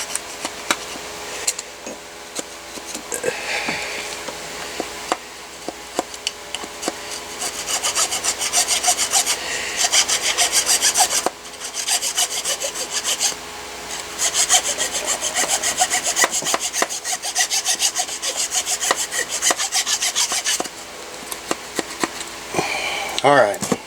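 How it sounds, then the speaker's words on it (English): Metal file rasping on a part of a Mossberg 702 Plinkster rifle during cleaning, rough repeated scraping strokes close by, fairly steady with brief pauses, and someone speaks at times. "So I'm just going to take a file real quick. File it down."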